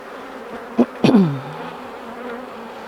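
Honey bees at an opened hive during a spring inspection, a couple of loud close buzzing passes in quick succession, one trailing off, over a faint steady background drone with no talk.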